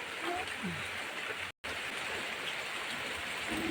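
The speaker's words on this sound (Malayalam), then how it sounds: "ആ മഴ പിന്നെയും പെയ്യുന്നുണ്ട്" Light summer rain falls steadily as a soft, even hiss, with one abrupt moment of silence partway through.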